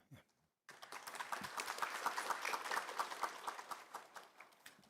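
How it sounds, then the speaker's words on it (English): An audience claps for a judge about to present at a legal conference in Seoul, starting abruptly after a brief near-silent pause and holding as a dense, moderately quiet wash of many hands. "Let's give him a round of applause."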